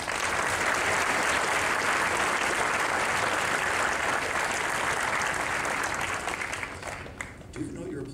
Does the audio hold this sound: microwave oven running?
no